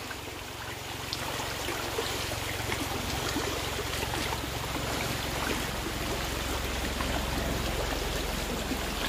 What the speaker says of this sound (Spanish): creo que era un helicóptero. En efecto, era un helicóptero el que iba pasando.